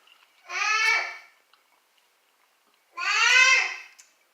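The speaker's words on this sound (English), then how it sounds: "sorry for those baby sounds" Two short bursts of baby babbling, a few seconds apart, with squeaky rising-and-falling vocal sounds and quiet pauses between them.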